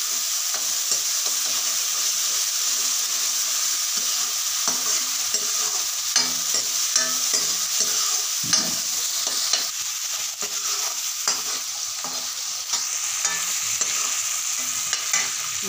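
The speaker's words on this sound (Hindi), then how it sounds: "मसाले को अच्छी तरह भून लें।" Spices sizzling in hot oil while being stirred for a black chickpea curry, a constant loud frying hiss with occasional scraping clicks of the spoon against the pan.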